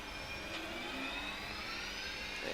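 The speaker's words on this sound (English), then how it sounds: "And setting full power with the thrust levers." Boeing 737 jet engines spooling to full takeoff thrust in a flight simulator, a loud steady roar with a rising whine that holds throughout, no voices.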